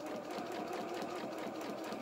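A domestic sewing machine runs steadily, stitching a curved dress bodice band toward the centre front, with a continuous close whirring hum and no pauses across the short stretch.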